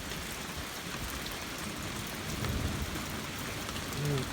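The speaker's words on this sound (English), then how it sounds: "barely raining." Light rain falls outdoors as a steady, soft hiss of drops on surfaces that fills the whole stretch with no talking, and a faint low rumble swells near the end.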